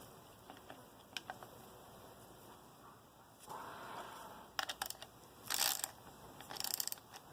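Cylinder ridge reamer being cranked by hand inside an engine cylinder, faint ratcheting clicks and metallic scraping in irregular bursts over a quiet background hum.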